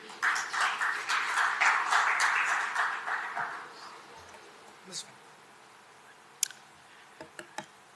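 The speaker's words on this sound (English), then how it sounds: "Can we have a round of applause for Hala Mobility team?" An audience gives a start-up team a round of applause at a mobility start-up challenge, a burst of clapping that builds, holds for about three seconds, then fades to scattered single claps.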